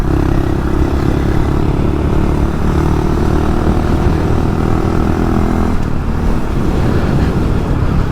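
A 2022 Honda Monkey motorcycle fitted with a Termignoni exhaust rides along a road, its engine note a steady, loud, rumbling drone throughout that drops in pitch and eases off near the end.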